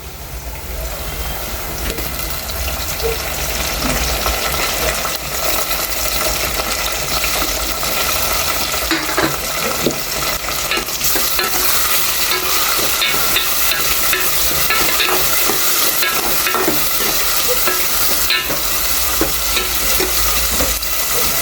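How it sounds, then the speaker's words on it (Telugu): Onions and tomato pieces fry in a pan, producing a loud, continuous sizzle with frequent stirring and scraping throughout, and no talking. "ఎర్రగడ్డలు అయితే వేగిపోయి టమాటా ముక్కలు అయితే వేసేసుకుందాం"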